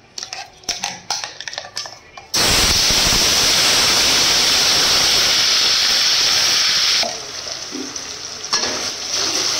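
Ginger, garlic, onion and coconut paste hits hot oil with bay leaves for chicken biryani: after a few light clinks, a sudden loud, hissing sizzle roars for several seconds, then eases to a quieter, steady fry.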